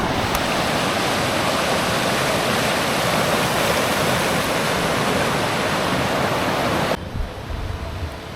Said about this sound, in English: The river's beautiful though